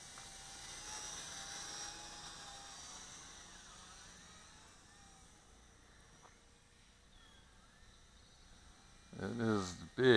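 A WLtoys V666 Cyclone FPV drone flies with a faint, high whining buzz of its motors that wavers in pitch as it moves, before a voice starts talking near the end.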